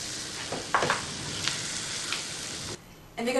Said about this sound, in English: Just going to give it a quick 30-second fry.